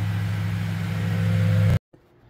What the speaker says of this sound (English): it's mostly kind of the air fan sound, a little bit exhaust